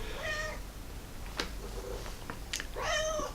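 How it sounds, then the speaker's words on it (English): Domestic cat meowing, with two clear drawn-out meows at the start and end and a few faint clicks and rustles between them, close by and alone over quiet room tone. "If you can hear Merlin agreeing, our cat."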